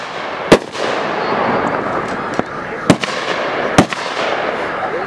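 Artillery fire in a war film sounds as several sharp, loud blasts at irregular intervals over a continuous rumbling battle din.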